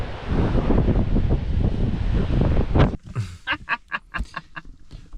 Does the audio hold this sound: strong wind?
yes